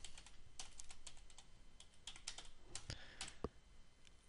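Fingers tap quickly on a computer keyboard while entering a command in a code editor, a close, quiet string of crisp clicks in uneven bursts, ending with a couple of firmer key strikes.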